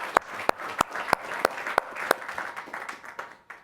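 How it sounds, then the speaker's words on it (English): Conference session audience at a transportation and logistics event claps in unison, a steady rhythmic beat of about eight loud claps, followed by looser scattered clapping. "Give yourself a round of applause"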